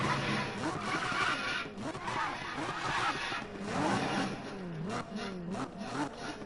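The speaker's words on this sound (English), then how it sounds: "I like the sound of this car. See, it's very loud." A loud, high-revving sports car engine in the Need for Speed 2015 racing game, pitch sweeping up and down repeatedly through gear changes, close and continuous.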